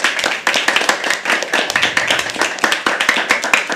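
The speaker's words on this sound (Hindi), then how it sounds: "एक बार जोरदार तालियां" Audience clapping at a live Hindi poetry and motivational performance, loud and close, with sharp individual hand claps in a quick uneven rhythm throughout.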